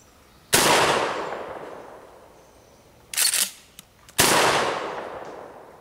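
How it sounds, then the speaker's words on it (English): Two loud, sharp blasts from a 12 gauge shotgun firing low recoil 00 buckshot at an outdoor range, each followed by a long decaying echo, with a brief clatter between the shots. "Two shots at about 10 yards."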